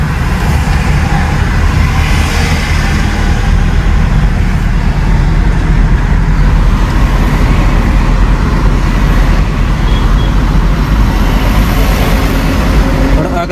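Car driving at speed in third gear during a driving lesson, a steady loud roar of engine and road noise throughout with no break.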